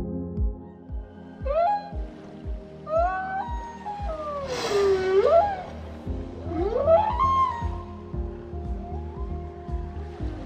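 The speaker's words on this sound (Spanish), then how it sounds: "Escuchemos a la ballena jorobada." A humpback whale sings in the ocean with long rising and falling tonal moans and whoops over a low, rhythmic pulsing background, loud and clear with no talk.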